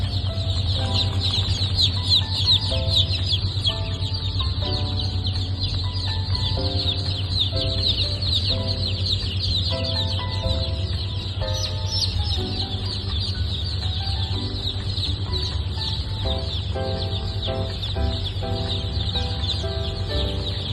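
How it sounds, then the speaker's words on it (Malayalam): Many native chicks, including Thalassery and naked-neck breeds, cheep continuously at a hatchery on hatching day, a dense overlapping chorus of high peeps over a steady low hum, with no talk. "എല്ലാം നാടൻ കോഴിക്കുഞ്ഞുങ്ങളാണ്."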